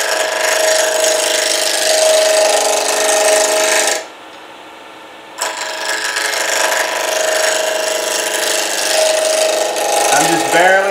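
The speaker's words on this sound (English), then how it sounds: "I'm just barely holding the roughing gouge at a small angle away from me toward the tailstock." Roughing gouge cutting a spinning pen blank on a wood lathe, a steady loud scraping whir that drops out briefly mid-way and then resumes at full strength.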